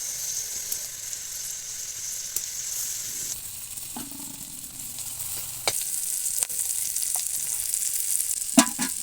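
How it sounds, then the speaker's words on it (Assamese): Onions fry in hot oil for an Assamese potato and tomato curry, giving a steady crackling sizzle broken by occasional sharp scraping clicks from stirring, with no voices. "এতিয়া আমি পিঁয়াজখিনি ব্ৰাউন হোৱালৈকে ভাজিম"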